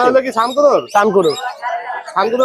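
A female yellow ringneck parrot gives a rapid string of harsh, chattering squawks and whistles, loud and close, at the Mirpur 1 bird market, Dhaka.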